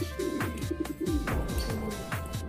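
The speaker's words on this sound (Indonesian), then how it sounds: "lehernya akan membesar sambil mengeluarkan suara, atau biasa istilahnya dalam ilmu perburungan burung merpati yaitu mpekuri" Modena crossbreed pouter pigeons coo in a rhythmic series of low, throaty calls, several repeated booming coos close by over a steady background hum, with no speech.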